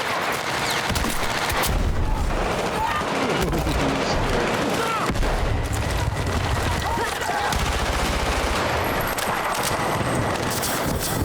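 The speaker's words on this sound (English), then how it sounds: "suppressors sound fucking mean in this game" Suppressed gunfire in Battlefield 6: dense, continuous rattling bursts of muffled shots mixed with game noise, steady and loud throughout, with a voice talking over it.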